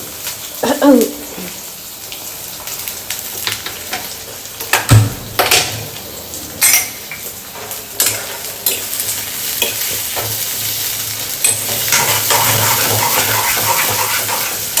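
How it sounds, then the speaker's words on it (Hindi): Onions fry in very hot oil in a home kitchen, with a steady sizzle beneath repeated stirring scrapes and clatters. The sizzle swells louder toward the end. "प्याज डाला, अभी भी तेल गर्म है, इतना ज़्यादा गर्म है"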